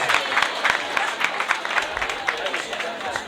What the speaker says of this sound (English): Appreciate by clapping.